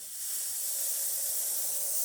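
A steady, bright hiss of steam from a brass La Pavoni espresso machine wand, tested after a full service, swells in and holds, close and fairly loud.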